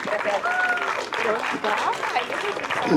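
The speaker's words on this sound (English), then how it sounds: "Give Claudia and Melina a round of applause" Audience at a Los Angeles voter forum with presidential candidates breaks into applause, a steady wash of clapping with voices and cheers rising over it throughout.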